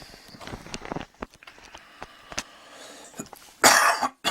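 Scattered light taps and knocks lead up to a single loud, harsh cough near the end.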